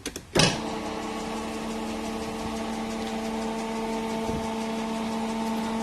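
Car lift raising a Subaru WRX STi in a workshop: a short clunk, then a steady electric motor whine with a droning hum that holds even and fairly close.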